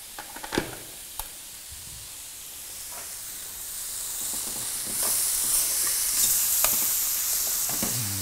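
Food frying in a pan while preparing a Ramadan meal of vegetable dishes and crème brûlée, a steady sizzling hiss that grows slightly louder midway, with a few sharp clinks and stirring scrapes near the start.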